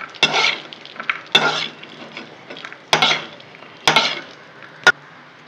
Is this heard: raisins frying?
yes